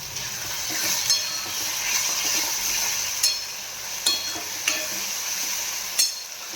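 Besan being stirred and mixed in a pan with a spoon, a steady sizzling scrape with a few sharp clinks of the utensil against the pan at irregular intervals, close by and alone.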